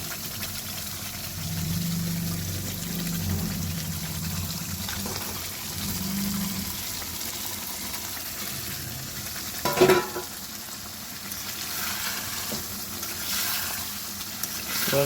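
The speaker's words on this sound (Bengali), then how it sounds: "এবার এর মধ্যে আমি মাংসগুলো দিয়ে দেবো।" Chicken pieces frying in a pan of spiced masala for chicken kosha, a steady close sizzle with occasional stirring scrapes and one louder clatter midway.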